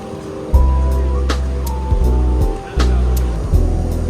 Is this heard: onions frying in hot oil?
no